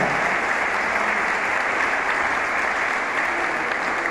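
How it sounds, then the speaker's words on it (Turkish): Enthusiastic audience applause at an outdoor memorial gathering in Fındıklı, loud, dense and unbroken, a steady roar of many hands clapping throughout. "Coşkulu bir alkış yapalım."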